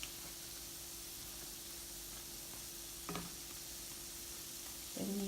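Dahi bara fritters fry quietly in oil after being turned, a soft, steady sizzle close by with a couple of brief clinks near the end.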